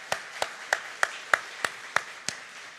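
Slow, evenly spaced claps, about eight in under three seconds, ring out in a church congregation after the choir sings during a Sunday morning service. The beats are moderately loud and there is no talk.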